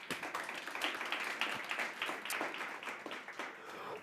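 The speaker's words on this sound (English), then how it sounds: "Please, let's give her a round of applause." An audience at a women's conversation event in 2023 gives a round of applause, a fairly faint but full spread of clapping hands that carries on evenly for a few seconds.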